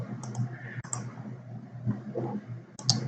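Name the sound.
computer mouse click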